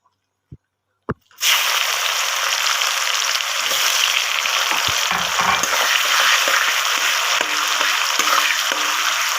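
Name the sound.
chopped onions frying in oil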